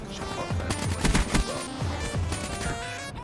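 Rapid automatic gunfire in Black Ops 3, loud bursts of shots with punchy low thumps, continuous over a few seconds, no talking.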